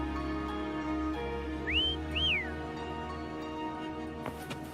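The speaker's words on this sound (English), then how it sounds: "Try whistling." A character whistles in the video game Wuthering Waves, two short rising-then-falling whistle notes, quiet, over a soft steady game background hum.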